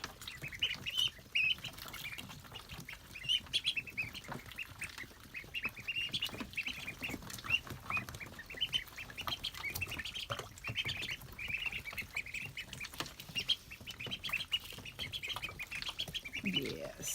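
Young farm ducks quack and squawk continuously at close range while drinking, a busy overlapping chorus of short calls over faint background noise.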